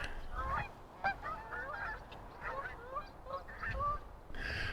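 Geese honk repeatedly outdoors, a loose, irregular series of nasal calls from several birds at moderate distance, heard over low ambient background noise.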